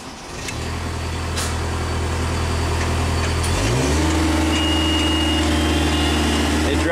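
A Genie lift's engine cranks and catches, then settles into a loud, steady idle that steps up to a slightly higher drone after a few seconds, close and continuous with no talking.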